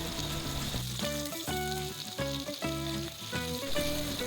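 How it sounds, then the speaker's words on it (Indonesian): Pieces of tuna fry in hot oil with a loud, continuous sizzle and crackle, punctuated by bursts of bubbling as the fish shifts in the pan. "Untuk menggoreng ikannya nggak usah terlalu kering ya, cukup berubah warna dari sisi kanan dan kirinya."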